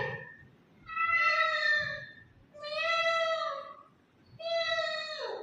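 Three drawn-out cat meows, each rising and falling, spaced about a second apart and heard clearly with no talking.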